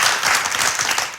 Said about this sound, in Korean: 박수 한번 보내드립시다